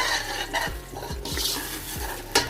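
Chicken pulao ingredients frying in a pot, stirred with a few scraping utensil strokes against the metal over a steady close sizzle.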